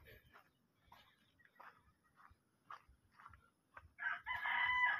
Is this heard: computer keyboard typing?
no